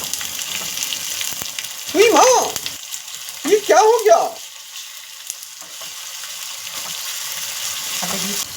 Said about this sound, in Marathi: अशी मस्त खमंग फोडणी बसलेली आहे